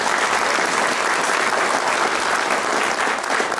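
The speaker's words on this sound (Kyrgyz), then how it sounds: "Бир кол чаап коюңуздар." A concert audience claps steadily and loudly for an elder guest, dense continuous applause filling the hall with no voices over it.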